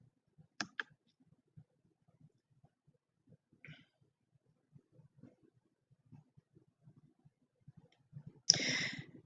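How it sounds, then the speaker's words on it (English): A computer mouse clicks while an article is opened, giving a sharp click near the start, a faint tick midway and a louder burst of clicking and handling near the end, otherwise quiet. "Let's click on this first article here."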